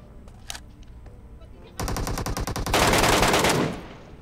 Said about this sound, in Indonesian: Ada yang nembakin tuh depan.